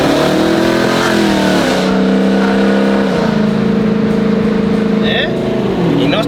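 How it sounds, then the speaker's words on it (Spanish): Supercharged Dodge Hellcat wide body engine revving, a loud, steady low drone that rises and falls in pitch over several seconds, with a voice talking over it. "Sound of a supercharger"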